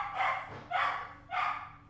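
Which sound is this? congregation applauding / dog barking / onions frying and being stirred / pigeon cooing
dog barking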